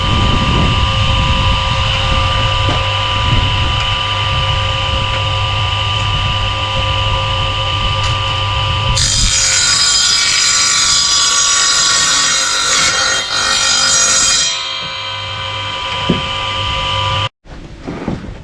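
A 1600 W electric circular saw, powered from a portable solar power station, runs with a loud, steady motor whine that shifts to a harsher, higher cutting tone partway through before cutting off near the end.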